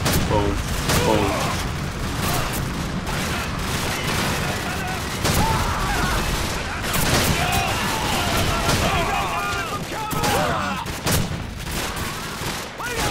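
W1200 shotgun fire in Call of Duty 4 Modern Warfare, with repeated loud blasts among dense in-game combat noise and explosions. A player talks over the gunfire.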